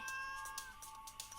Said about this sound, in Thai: ไปหาเจ้าเหมียวก่อน